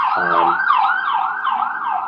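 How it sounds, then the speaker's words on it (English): Emergency vehicle sirens pass outside: a loud, rapid wailing siren rising and falling in repeated cycles, with a brief hesitant voice at the start. "Excuse the sirens there if you hear them."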